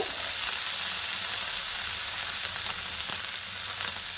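Chopped onion stalks hit hot mustard oil in a pan and set off a loud, dense, continuous sizzle heard up close, with a faint crackle now and then.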